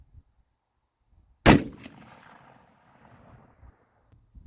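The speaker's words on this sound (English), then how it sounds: "gonna pop a couple more rounds down there and get a 3-shot group" A Parker-Hale .30-06 rifle fired outdoors while being sighted in: one sharp, loud shot with a booming report that rolls away and fades over a couple of seconds.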